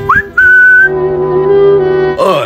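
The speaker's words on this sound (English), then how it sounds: "Oh, I was just whistling, you know?" A person whistles a loud, clear melody close up, with sustained pitched notes gliding between tones, a short break near the start and a noisy burst at the end.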